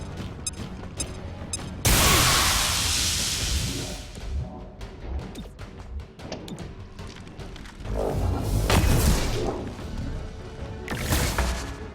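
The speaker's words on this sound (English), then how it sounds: "Grenade out." A grenade goes off in the tactical game XCOM: Chimera Squad with a sudden loud blast and a long roaring decay, followed by clattering debris and further booming impacts.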